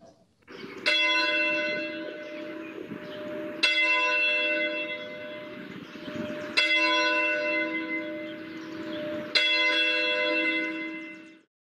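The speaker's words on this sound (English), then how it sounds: "Let us begin worship with the ringing of our church bell." A church bell rings four slow, resonant strokes, each ringing out and overlapping the next, loud and close with no talking.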